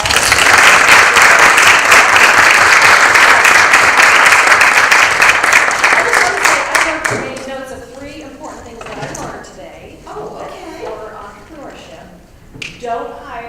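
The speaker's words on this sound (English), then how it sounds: "if we can give them a round of applause" An audience applauds panelists at a women entrepreneurs event, dense loud clapping for about seven seconds that thins to scattered claps, then gives way to people talking.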